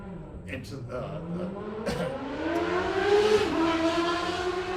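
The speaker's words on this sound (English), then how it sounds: "Sorry guys, if you heard that car" A car passes outside near a back patio, its engine tone rising and swelling louder as it approaches over a few seconds, with no talk.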